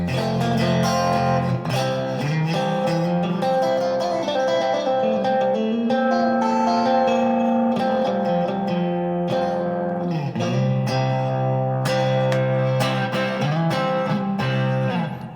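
A Fender Player II Stratocaster played through distortion with a little drive on the middle pickup, sounding as loud sustained chords and ringing notes with brief pauses, alone with no talk.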